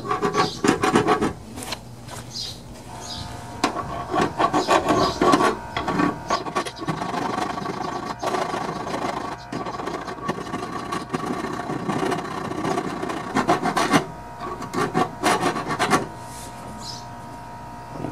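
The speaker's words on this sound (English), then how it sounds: "Let's try a file first." Hand file rasping the metal deck of a Poulan Pro lawn tractor mower, a steady run of scraping strokes close by, loud and continuous with short pauses between bursts, no talk.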